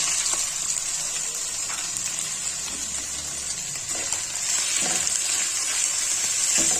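Shredded boiled chicken going into a pan of frying garlic and ginger gives a steady, close sizzle that holds throughout, with occasional soft stirring clicks and no voices.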